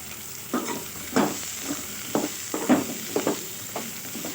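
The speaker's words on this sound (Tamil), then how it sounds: "மூணு பெரிய வெங்காயத்தையும் கட் பண்ணி வச்சு அதையும் சேர்த்துக்கலாம் வெங்காயம் நல்லா பொன்னிறமாக வதங்கி வந்துட்டு" Onions fry with mustard seeds, urad dal and fennel seeds in a pan under a steady sizzle, punctuated by about ten rhythmic scraping strokes of a spoon, close and loud with no talking.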